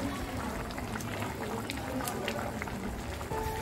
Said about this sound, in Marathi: अजून एक उकळी येऊ दे.